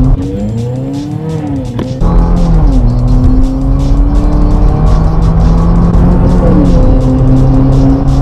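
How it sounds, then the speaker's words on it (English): Mercedes A45 AMG with a performance exhaust accelerating hard on a road, loud close engine note rising and falling through gear changes, with crackles and pops on the overrun. "we're about to go out with Glenn in the A45 AMG with the Performance Exhaust"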